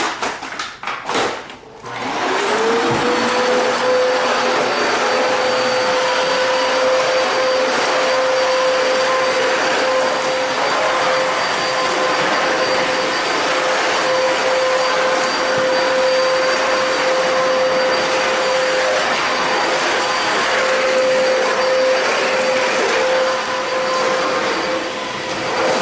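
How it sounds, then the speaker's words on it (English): A vacuum cleaner runs over a bathroom floor, starting up with a rising whine and then holding a loud, steady, close drone for the whole stretch, with no voices. "you can vacuum it, or you just take a broom and you sweep it out"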